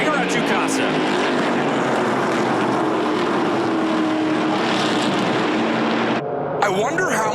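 NASCAR Pinty's Series stock cars racing at the green flag at Jukasa, a dense, loud pack of roaring engines with steady harmonic drone sustained for several seconds, then dropping away sharply near the end as a commentator talks over it.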